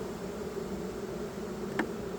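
A swarm of honey bees being moved into a new ten-frame hive makes a faint, steady droning hum, with one bee buzzing briefly close by.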